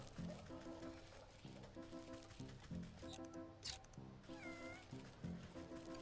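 A cat in the video game WytchWood meows several times in a row over a steady, looping plucked music track, the meows fairly distinct against the soft background.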